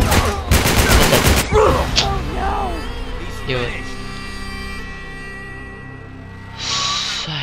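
A short, loud burst of rapid automatic gunfire in Uncharted 3: Drake's Deception, followed by speech and softer in-game sounds.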